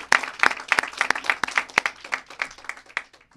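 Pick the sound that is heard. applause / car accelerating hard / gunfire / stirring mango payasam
applause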